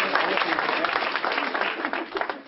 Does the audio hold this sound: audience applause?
yes